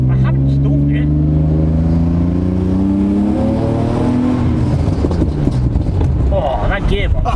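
A BMW E38 accelerates under power, its engine note climbing steadily in pitch and staying loud throughout, then turning rougher and more broken near the end.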